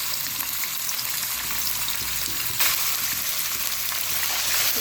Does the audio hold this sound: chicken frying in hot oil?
yes